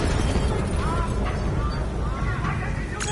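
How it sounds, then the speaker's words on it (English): Deep rumbling blasts and booms of explosions across a facility in Call of Duty: Black Ops III fill the background in a dense, continuous roar, with voices speaking faintly over the din. "we have multiple explosions across the facility"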